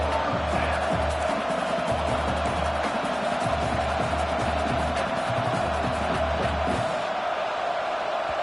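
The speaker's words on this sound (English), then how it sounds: "And with this place rocking, the crowd forces a false start." A stadium crowd in the College Football 26 video game roars loudly and continuously at a Texas at Pitt game, a dense rumbling wall of cheering that never lets up, with a pulsing low drone underneath.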